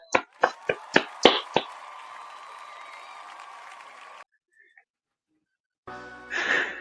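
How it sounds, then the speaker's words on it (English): A few sharp hand claps from a small online group, quick and uneven, followed by a sustained hiss-like ringing, then a gap of near silence and a brief muffled burst at the end; the applause honors the winner of a football confidence pool. "Round of applause for Michael."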